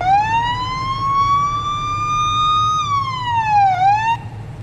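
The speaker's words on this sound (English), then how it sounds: "Uh, that's actually a nice siren." A police car siren in the Police Simulator: Patrol Officers game, one loud, clear wailing tone that rises slowly, holds, then dips and climbs again before cutting off, over a low engine hum.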